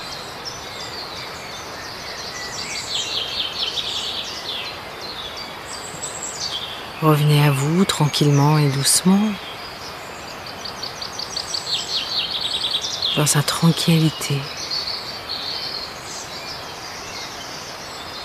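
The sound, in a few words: birds singing outdoors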